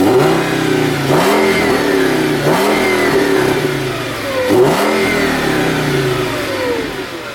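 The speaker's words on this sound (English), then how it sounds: "That is way too quiet for a V10. I think we definitely need an exhaust." Audi S6 Avant V10 5.2 engine running with no exhaust fitted, revved three times in quick rising and falling swells over a steady idle, close and loud with no voices.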